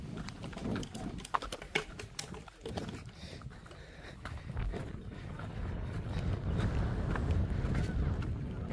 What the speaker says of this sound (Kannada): ಗಾಳಿ ಮಾತ್ರ ಮಸ್ತಾಗಿ ಬರ್ತೈತೆ.